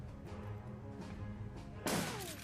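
Shotgun blast from the video game Shadowrun: Dragonfall, a single sharp report bursting out near the end over low, steady background game ambience.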